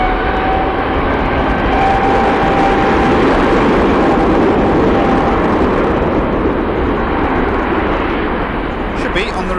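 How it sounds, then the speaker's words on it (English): A heavy Boeing Dreamliner jet departs the runway at Manchester Airport, its engines a loud, sustained broadband roar filling the whole clip, with a person talking over it. "Dreamliner departing."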